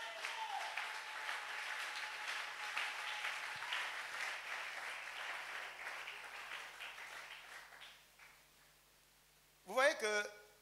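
A church congregation at a teaching seminar bursts into applause near the end, a brief loud clatter of clapping after a long stretch of muffled crowd murmur that fades away.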